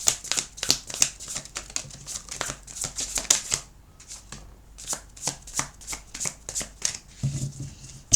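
Tarot cards being shuffled by hand, a rapid run of crisp riffling snaps and slaps, pausing briefly before another quick burst of close, dry card clicks.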